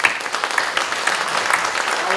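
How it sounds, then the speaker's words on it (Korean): Congregation applause at a church service for an orphanage director's installation, dense continuous clapping close and loud throughout. "나는 그에게 격려와 위로와 정말 축하하기 위해서 한 번만 더 박수를 쳐달라고 부탁하고 싶습니다"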